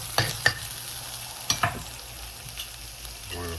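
One large egg frying in a pan while fried rice is made, a steady hiss of hot oil with a few scraping knocks and a brief crackle at the end, close and with no talking.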